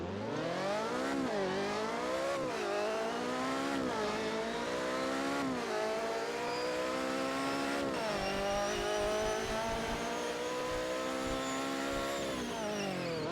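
A Chevrolet car in the Roblox-style driving game Driving Empire, its engine revving loudly and continuously with repeated rising pitch sweeps as it accelerates through gears, no talk.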